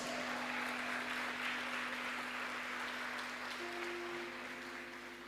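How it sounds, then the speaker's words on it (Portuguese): A congregation claps during a church service with a sustained hum underneath, the applause dense and steady before gradually thinning toward the end. "Pode aplaudir a Jesus."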